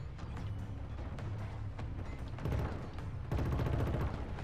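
Gunfire in the video game Killzone Shadow Fall, rapid continuous shots and mechanical clatter with a couple of heavier bursts, loud and busy throughout.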